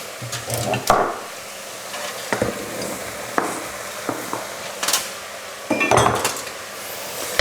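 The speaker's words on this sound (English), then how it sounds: "Now I'm also just going to add in the carrots." Carrots tipped into a pot of slow-cooking beef and tomato sauce and stirred around, giving repeated close scrapes and clanks of a utensil against the pot over a low sizzle.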